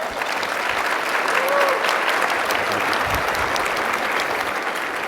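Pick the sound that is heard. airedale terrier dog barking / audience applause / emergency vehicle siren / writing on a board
audience applause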